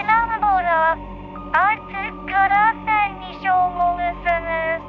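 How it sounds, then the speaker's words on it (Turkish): A phone rings during Minecraft gameplay: a series of bright, tonal ringtone bursts with gliding pitches repeats in an uneven rhythm, loud and up close. "Telefon çalıyor"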